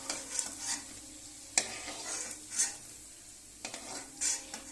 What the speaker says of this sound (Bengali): দেখুন এবার এরকম করে ভেজে নিতে হবে।